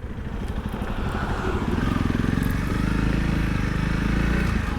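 A Honda CRF300L Rally motorcycle leaving a tar road for gravel, its single-cylinder engine droning steadily and close, with a rhythmic chugging pulse and tyre crunch building under it.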